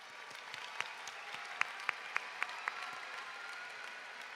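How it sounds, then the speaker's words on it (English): Audience applause at a high school commencement ceremony, a steady low wash of many hands clapping with a few sharper individual claps popping out above it, moderately faint and continuous. "Graduates, please take a moment again to thank the people who helped you get here with a well-deserved round of applause."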